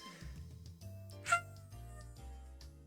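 A cat mewing in the Higurashi visual novel Tsumihoroboshi, with one short, high meow standing out over soft background music. The meow is quiet and heard alone.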